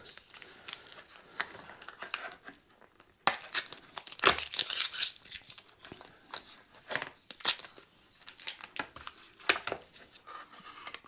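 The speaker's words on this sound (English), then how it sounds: "I'm just going to put a bit of tape across this." Strips of tape are torn and crinkled while masking over an electric guitar pickup on a Johnny Ramone-style guitar build, giving close, irregular crackling rips and rustles in bursts, with a short pause early on.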